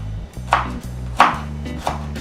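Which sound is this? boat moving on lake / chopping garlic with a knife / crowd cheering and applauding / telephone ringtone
chopping garlic with a knife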